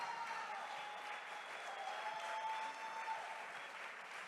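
Applause from an audience at a panel on Colombian election security during an ideas festival, a steady, soft wash of many hands clapping that runs evenly through the whole stretch with no voices over it.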